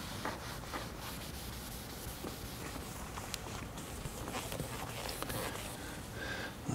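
Steady rubbing and wiping of car trim with trim cleaner on a Subaru WRX during detailing, a continuous close scrubbing texture with faint intermittent taps, no talking.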